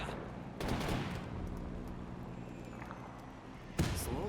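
Video game machine gun fire from a Men of War II World War battle: a sustained rattle of rapid automatic bursts under a dense battle din, with a sharp, louder burst of fire near the end.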